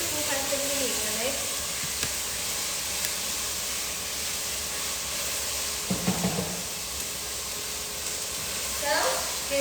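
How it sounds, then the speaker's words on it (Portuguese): Steady hiss and sizzle of bell peppers being sautéed in a pan for festa junina dishes, a continuous frying noise throughout with someone talking over it. "refogando aqui"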